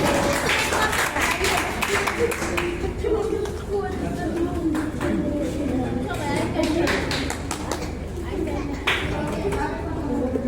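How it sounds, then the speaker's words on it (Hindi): A crowd of guardians at a school branch opening gives welcoming applause for an honoured guest, sustained clapping throughout with people talking over it. "आप लोग जोरदार तालियों से स्वागत करें"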